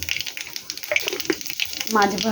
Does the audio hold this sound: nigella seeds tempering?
yes